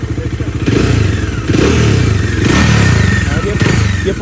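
A 2022 Bajaj Dominar 400 motorcycle idles with a close, loud, rapid rattling vibration, and a buzzy squeak comes from a loose footrest, with brief knocks and a pulsing engine beat beneath it.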